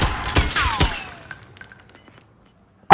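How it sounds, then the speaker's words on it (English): Rapid bursts of gunfire in a battle royale game ring out close and sharp over the first second, then fade into faint scattered distant shots and near silence. "Who is shooting?"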